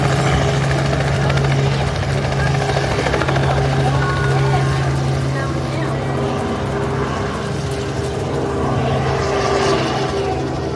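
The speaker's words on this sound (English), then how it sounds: "There goes the helicopter." A tourist helicopter lifts off nearby, its rotor and engine roar steady and loud throughout, with people talking over the noise.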